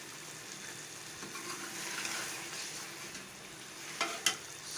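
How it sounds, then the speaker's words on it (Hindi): Zucchini and beef curry frying and being stirred in a pan, a soft steady sizzle with occasional scraping and a couple of sharper clinks near the end, no talking. "मैं इसको भून रही हूँ और थोड़ी देर के बाद ये सालन पक जाएगा।"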